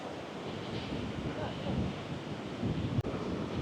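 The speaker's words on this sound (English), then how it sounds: "So it's a big long beach, stretches right down there." Ocean surf washing onto a long beach in Phuket, Thailand, a steady soft roar of waves mixed with wind buffeting the microphone, fairly quiet and continuous with one brief knock near the end.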